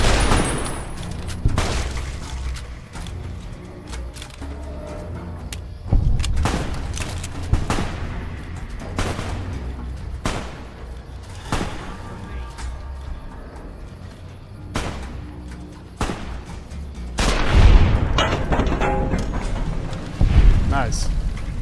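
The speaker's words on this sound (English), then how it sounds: "Survivalist rifle." Survivalist rifle shots in Fallout New Vegas, a series of loud, sharp reports spaced a second or two apart, each booming briefly, with a player talking between some of them.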